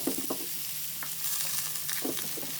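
Pumpkin stir-frying with chillies and curry leaves in a pan for a thoran, a steady loud sizzle with soft scraping and tapping of a spoon as it is mixed.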